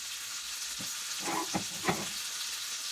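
Thai fried shellfish pancake with vegetables added sizzles steadily in a hot pan, broken by a few sharp stirring scrapes and clatters near the middle.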